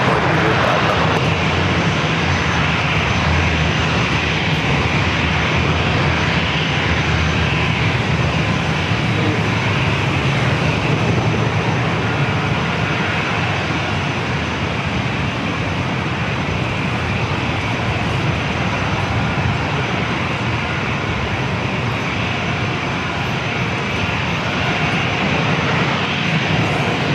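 Boeing 747-400 freighter coming in to land at North Island in San Diego, a broad continuous jet-engine roar that holds loud and steady throughout, heard from some distance outdoors with no talk.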